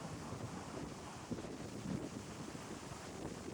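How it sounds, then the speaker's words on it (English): A strong gust of wind during a red-flag fire warning in Pullman, Washington buffets the microphone as a steady roar for several seconds, with a few louder surges. "Like here's a gust coming through now."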